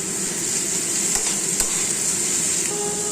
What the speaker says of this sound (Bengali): আগে থেকে কেটে রাখা আলু আর বেগুনটা ভালো করে ভেজে নেব